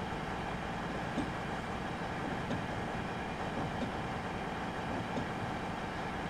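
In a Train Simulator Classic game, a train rolls along rails with a steady broadband rumble that holds an even level from start to end, marked by faint periodic clicks.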